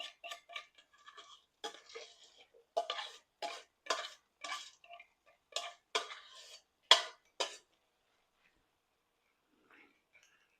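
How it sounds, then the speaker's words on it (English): Horse gram beans cooking in a pot are stirred with a utensil, a rhythmic series of close scraping, rattling strokes that stop partway and leave near silence. "We're going to stir it around, let it cook."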